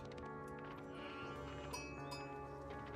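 Sheep bleating in the strategy game Age of Empires IV, several short, nasal baas over a steady layer of game music and ambience at a moderate level.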